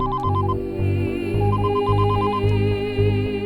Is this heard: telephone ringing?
yes